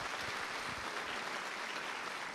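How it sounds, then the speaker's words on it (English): A crowd at an evening event applauds steadily and densely, a sustained wash of many hands clapping with no voices standing out. "Let's just give one more round of applause for Aaron."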